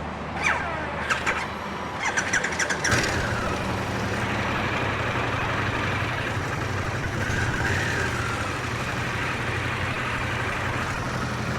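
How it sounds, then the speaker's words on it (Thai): A Harley-Davidson Pan America adventure touring motorcycle with its Revolution Max engine starts with a few sharp clicks, then settles into a steady, close, rumbling idle that holds evenly throughout. "ลองฟังเสียงกันดู ความกระหึ่มของเจ้าแพนเมกา ในเครื่อง Revolution Max"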